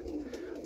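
Roller pigeons coo softly, a single brief low murmuring call, faint and close, with no other sounds.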